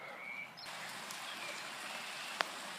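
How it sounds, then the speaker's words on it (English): Steady hiss of rain falling on a surface, with a single sharp tap near the end. "And yes, it is raining quite miserably, and it's the worst weather ever."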